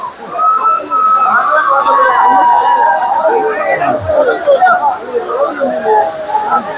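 The Courtallam waterfall crashes in a loud, constant hissing roar at close range at night, with crowd voices mixed into the din.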